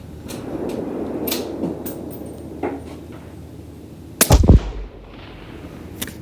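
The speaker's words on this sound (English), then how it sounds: "Let me try a third shot." A single Horizon Firearms Venatic rifle in 22 Creedmoor fires one sharp, loud gunshot with a short echoing tail, standing out from a quiet outdoor background.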